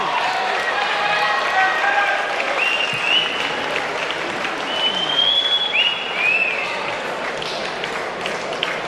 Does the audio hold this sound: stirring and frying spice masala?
no